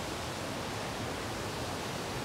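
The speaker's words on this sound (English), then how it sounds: "And it's a waterfall on up there." A mountain waterfall at Bard Falls in the North Carolina mountains rushes steadily, a soft, even wash of falling water heard from a short distance with no other sounds.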